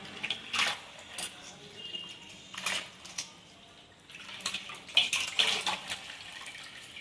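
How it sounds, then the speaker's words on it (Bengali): A handkerchief soaked and wrung in a bowl of water for wiping the face, with several short bursts of dripping and splashing water separated by quiet gaps, close and fairly soft. "এবারে আমি একটা বলে জল নিয়ে নিয়েছি, একটা রুমাল নিয়ে নিয়েছি, ভালো করে ভিজিয়ে নিয়ে মুখটা মুছে নেব"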